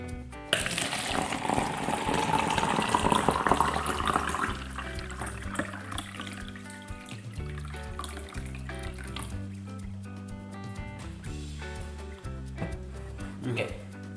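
Water pours into a cup for a cardboard-and-cup demonstration, the filling tone rising steadily in pitch for several seconds as it nears the brim, followed by a voice talking.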